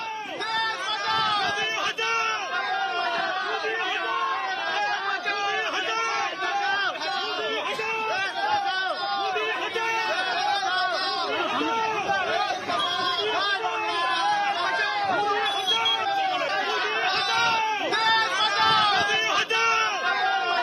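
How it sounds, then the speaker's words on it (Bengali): A dense crowd of Trinamool workers chants 'go back' slogans at BJP candidate Tapas Roy in Cossipore, Kolkata North, during the 2024 Lok Sabha election. The voices form a loud, continuous wall of shouting and babble that runs the whole time. "তাপস রায়কে তৃণমূল কর্মীদের গো ব্যাক স্লোগান"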